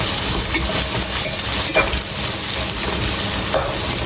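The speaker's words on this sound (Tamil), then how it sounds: "அதுக்குள்ளே போட்டு வதக்குறேன்" Onions and garlic sauté in a frying pan with a steady, dense sizzle and occasional stirring scrapes, loud and continuous with no talking.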